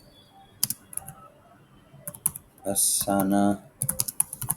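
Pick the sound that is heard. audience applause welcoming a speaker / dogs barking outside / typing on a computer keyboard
typing on a computer keyboard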